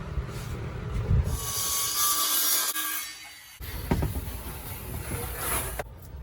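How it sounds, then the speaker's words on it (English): Wall paneling is cut inside a Mitsubishi Express short-wheelbase van being fitted out, with rough rasping sawing strokes, a brief pause in the middle and then more cutting and scraping close by. "I'm going to cut the wall paneling now and just screw them on."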